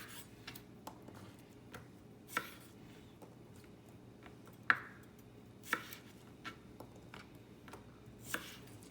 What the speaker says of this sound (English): Yardy's gonna start by chopping up the asparagus.